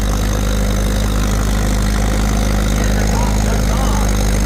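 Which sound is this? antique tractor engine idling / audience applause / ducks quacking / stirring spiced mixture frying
antique tractor engine idling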